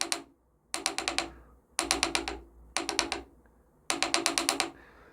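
An engine with a bad knock sensor at idle shows spark knock as short bursts of quick, sharp metallic ticks, five clusters with gaps between them, close and clear without speech.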